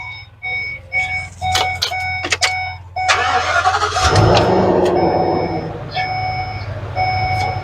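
A Ford E350 motorhome engine cranks with a few chiming beeps, catches and settles into a steady, loud idle close by, with warning chimes sounding again near the end.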